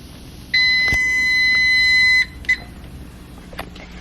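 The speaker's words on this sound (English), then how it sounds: "there is the timer for the rice" A kitchen timer for cooking rice beeps in one sustained electronic tone lasting about two seconds, then gives a short extra blip; close and clear in a quiet kitchen, with no talking.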